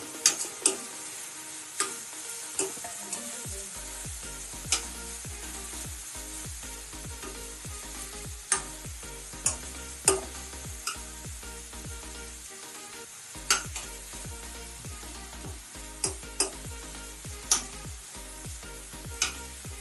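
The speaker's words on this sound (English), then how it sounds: "You saute it for a couple of minutes, and then once the onions start becoming translucent, we add in the potatoes." Onions sautéing in a pan for a vendakka (okra) curry give a steady low sizzle, broken by regular sharp clicks and scrapes of a spoon stirring against the pan, with no talking.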